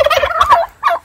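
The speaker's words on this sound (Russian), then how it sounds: "У нас индюки гуляют." Domestic turkeys roaming a rural yard in Krasnodar Krai gobble loudly and close by in a quick burst of several rattling calls, a short pause, then one more gobble.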